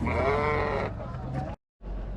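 A close, loud bleat from a female lamb at a livestock market, long and wavering, followed by a shorter noisy burst, a brief silence, then more sound.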